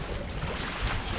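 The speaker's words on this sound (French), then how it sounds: "le vent se lève, là il y a une petite dizaine de nœuds de vent" Wind of about ten knots rushing over a sailboat under sail, a steady broadband roar with water wash beneath, close and continuous with no talking.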